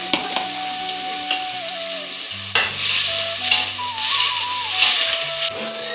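Onion pieces dropped into hot oil in a pan, a loud, steady close sizzle with stirring scrapes and bursts of frying that swell and fade across the clip.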